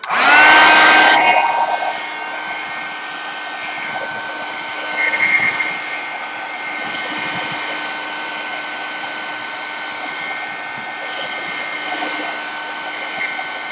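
A hair dryer blows steadily, drying paint on an altered Japanese fan, starting with a loud burst and then holding a constant whirring hum that shifts slightly as it is moved.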